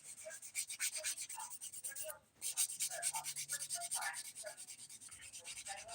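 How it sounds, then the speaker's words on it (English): Steady rhythmic rubbing of a sponge nail file buffing fingernails during a dip-powder manicure, close and fairly soft, with a brief pause near the middle and no talk. "I love these sponge files for buffing"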